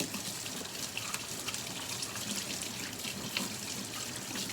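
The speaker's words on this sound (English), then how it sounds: "And then I gotta rinse off all the bubbles." Water runs steadily from a tap into a sink as bubbles are rinsed off hands, a continuous close hiss and splash with no talking.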